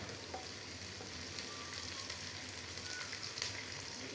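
Fish roe sizzles steadily in hot oil in a pan while spices are stirred in, a continuous close frying hiss with faint stirring scrapes and no voices.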